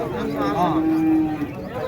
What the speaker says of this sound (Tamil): இது ஒடுக்கத்தூர் தானே மாடு